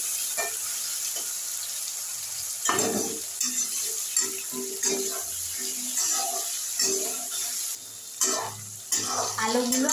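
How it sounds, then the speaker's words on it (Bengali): Potato pieces fried with salt and turmeric for a paneer curry, a steady sizzle broken by irregular stirring scrapes and knocks of a spatula in the pan, close, with no one speaking. "দিয়ে আলুগুলো ভালো করে লাল লাল করে ভেজে নিই।"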